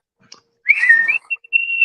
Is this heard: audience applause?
no